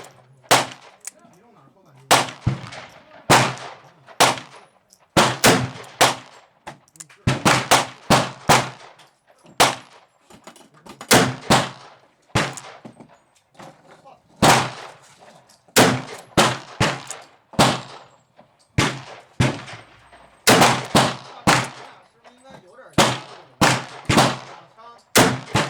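.44 Magnum handloads, including 220-grain wadcutters over Unique powder and loads with HP-38, fired in a long string of sharp, loud shots with short gaps and some clustered pairs, no talk between.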